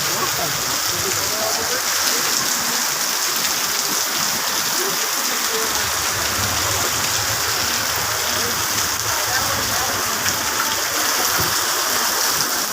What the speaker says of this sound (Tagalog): mataas na yung tubig dito, oh